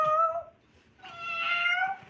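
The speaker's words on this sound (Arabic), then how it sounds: "يخليك انت تولي تقول لي مياو مياو مياو" A cat gives two drawn-out meows, the second longer and louder, close and clear against a quiet background.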